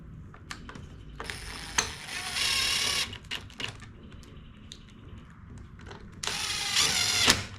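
Ratchet clicking as an 8mm socket turns a bolt on a Yard Machines 21-inch push mower during a spring tune-up, with bursts of rapid close clicks separated by quieter handling noises.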